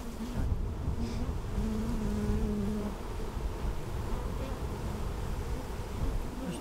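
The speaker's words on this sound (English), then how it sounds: "So then you've got the nurse bees running amok." A steady, low droning buzz of many honey bees from an opened hive fills the whole clip at a constant level, with no voices.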